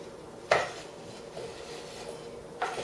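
Chopped onion pieces tipped into a bowl while making guacamole: a sharp scraping clatter at the start, a faint rustle midway and another brief scrape near the end, close and fairly quiet.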